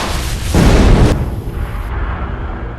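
Grenade explosions in a film action scene, a heavy booming burst that swells loud for about half a second, then a lingering low rumble that slowly dies away, with no voices.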